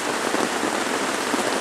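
Steady rain falling outdoors, a dense, even hiss of drops hitting surfaces close by, loud and unbroken, with no voices.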